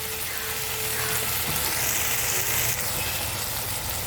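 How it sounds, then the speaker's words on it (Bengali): Small shrimp fry slowly in oil in a pan with a steady, dense sizzle that holds even throughout, no voices over it. "আমি এই তলায় দিয়ে দিয়ে আস্তে আস্তে ভেজে নেবো"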